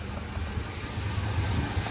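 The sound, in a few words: 6.0 engine idling, possible lifter tick or exhaust leak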